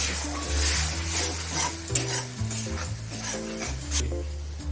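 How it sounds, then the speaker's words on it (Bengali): Capsicum and a spice paste of cumin, coriander and turmeric sizzle steadily in a kadai for kadai paneer, with continuous close stirring scrapes over the frying and no talking. "ক্যাপসিকামটা আমি একটু দিয়ে দিলাম, এটাকে এখন একটু নাড়বো।"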